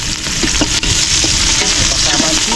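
Chopped onions sizzle steadily in hot cooking oil in a pan, a continuous close crackle with occasional stirring scrapes and no talking.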